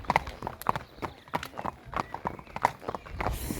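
Horse hooves clip-clop on a walking ride: a steady, moderately paced series of sharp knocks at middle distance over a soft background, with faint voices at times.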